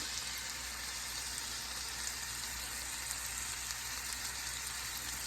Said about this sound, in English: we're going to put it right in the center there. And then we're going to turn it as it starts to sear